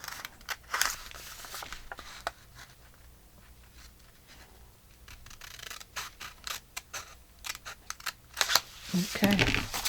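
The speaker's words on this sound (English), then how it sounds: "Keeping my scissors on the flap side." Repeated crisp snipping of scissors through book-page paper, close and fairly loud, with brief pauses between cuts and light handling rustle.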